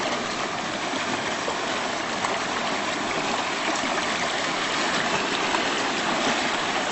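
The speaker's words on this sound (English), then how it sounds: "And the water is going over that way and making new pathways." Creek water rushes steadily across saturated ground, a dense, even broadband flow with no pauses or voices, close and fairly loud throughout.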